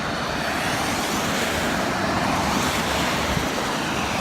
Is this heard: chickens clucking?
no